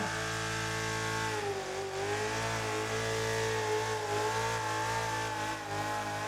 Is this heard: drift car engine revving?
yes